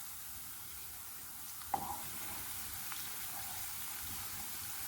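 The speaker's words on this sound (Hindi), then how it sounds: "ये देखिए हमारा लहसुन फ्राई हो रहा है।" Garlic frying in oil in a pan for black masoor daal, a faint steady hiss of sizzling throughout with one brief clink of a spoon, quiet and continuous with no voices.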